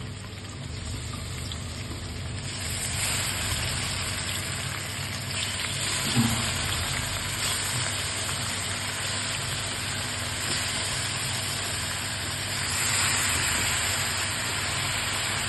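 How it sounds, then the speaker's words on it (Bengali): Boal fish pieces frying in oil with browned onions, a continuous soft sizzling hiss with a faint clunk midway and a slight swell near the end. "এখন এক এক করে মাছটা দিয়ে দেবো।"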